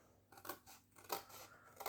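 Close, quiet scissors cut a strip of decorative paper for an advent calendar box, with a few quick crunching snips in succession.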